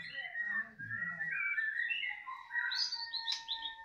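A caged bird chirps and whistles in a string of rising, warbling calls, fairly faint and close, with no talking.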